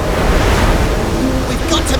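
Roaring cartoon ocean waves rush in a loud, continuous wash of surf with wind noise, filling the short moment without any voice over it.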